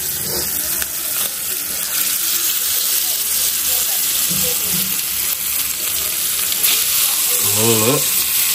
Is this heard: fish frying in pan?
yes